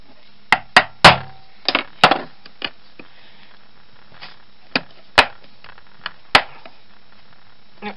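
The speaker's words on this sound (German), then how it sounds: "Ich nehme erstmal einen kleinen Hammer und mache erstmal hier ein bisschen einen Schlitz tiefer." A small hammer taps at a round garage lock cylinder to deepen a slot in it, giving a series of sharp metallic knocks, several close together at first, then sparser single blows spaced out over several seconds.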